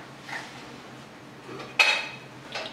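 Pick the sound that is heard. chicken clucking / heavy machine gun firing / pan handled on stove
pan handled on stove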